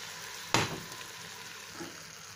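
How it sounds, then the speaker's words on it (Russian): Cut potatoes and rinsed dried peas tipped into a sizzling fry of vegetables in a slow cooker for pea soup, a sudden sharp hiss as they land, fading into quieter frying crackle. "Далее в нашу зажарку добавляем картофель, нарезанный брусочками, промытый горох"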